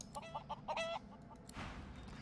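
Hen clucking in the game Divinity Original Sin, a run of short rhythmic clucks over a steady game ambience, close and fairly quiet, with no talk.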